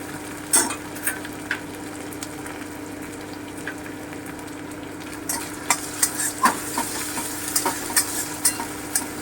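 Ginger paste, green chilli and coriander powder fry in a pan with a low steady sizzle, joined later by a run of sharper stirring scrapes and taps, with no one talking.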